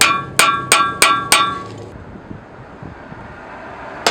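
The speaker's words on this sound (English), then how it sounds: "whack the back head of the ball peen with a regular hammer" A regular hammer strikes the back of a ball peen hammer's head five times in quick succession, sharp ringing metal clanks, followed by a quiet pause and one more strike at the end.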